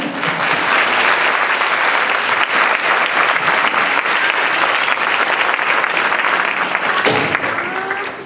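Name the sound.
audience applause at an orchestra concert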